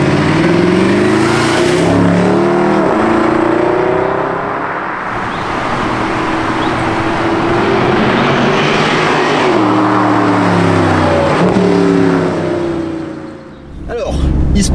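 Mercedes SLS AMG Roadster V8 engine, 571 horsepower, firing up and revving hard, a loud sustained roar with rising and falling pitch sweeps and a brief dip near the end, heard close and alone.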